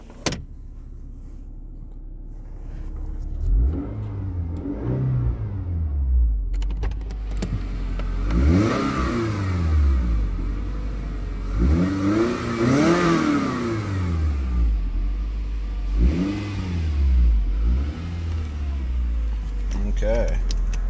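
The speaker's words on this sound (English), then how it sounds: "The exhaust sounds way better once it's warmed up." A 2011 Scion tC engine, warmed up, revs repeatedly through its exhaust, rising and falling in several loud sweeps after a quiet idle start.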